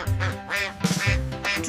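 A duck quacks in a short run of loud, nasal, close calls in a children's alphabet song setting.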